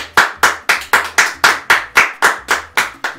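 Audience applause at a live prize-drawing event, heard as about eleven sharp, evenly spaced claps in a steady rhythm, loud and close with no talk.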